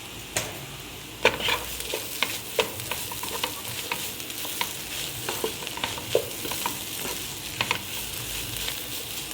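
Chicken filling with coriander leaves sizzles and fries in a pan on the stove for a Malabar chatti pathiri, with repeated sharp scrapes and clinks of stirring over a steady, close frying hiss.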